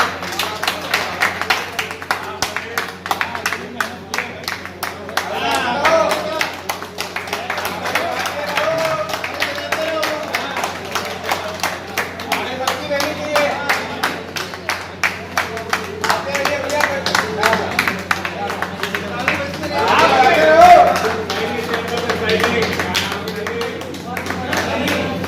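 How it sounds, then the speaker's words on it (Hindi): Rhythmic clapping from a group at a retirement ceremony for Lucknow electricity workers, steady repeated claps running throughout, with people talking and calling out over it and a louder swell near the end. "चलो ताली तो बजाते रहो भाई।"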